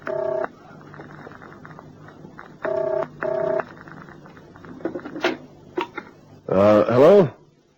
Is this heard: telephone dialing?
yes